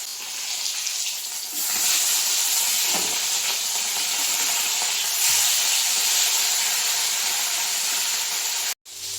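Rohu fish frying in oil in a home kitchen, a loud, steady sizzling hiss that runs unbroken and cuts off abruptly near the end.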